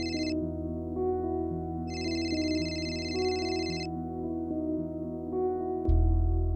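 A phone rings with a melodic electronic ringtone, steady tonal notes repeating over several seconds, then a low thump near the end, no talk.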